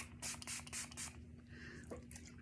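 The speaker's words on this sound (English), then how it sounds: "Milani Make It Last setting spray." Milani Make It Last setting spray hisses in several quick, close bursts, followed by a quieter stretch of faint handling.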